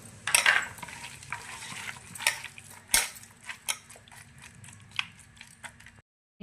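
A spoon stirs fried onions with a little ghee and salt in a pan, giving a series of irregular scraping clicks and soft sizzles, close and fairly quiet, with no talking.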